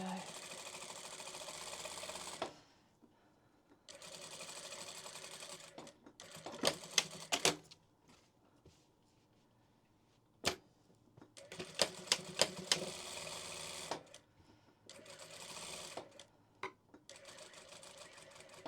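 A domestic sewing machine, not a quilting machine, stitches fabric boxes in several bursts of rapid mechanical whirring separated by pauses, with brief clicks and a voice talking in the gaps.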